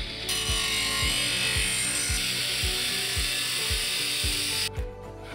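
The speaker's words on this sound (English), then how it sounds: "Set the angle grinder to the lowest speed and cut the profile slowly." An angle grinder set to its lowest speed cuts slowly through a Schluter DESIGNBASE-SL metal profile, giving a sustained high grinding hiss over a low motor drone with a regular rhythmic thump about twice per second, stopping at the end.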